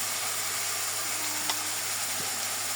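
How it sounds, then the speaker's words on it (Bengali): Chicken pieces seasoned with ginger, garlic, chili powder, turmeric and salt fry in a pan with a steady, even sizzle and hiss, heard close and with no talk. "এবারে আম্মু কষিয়ে নিল"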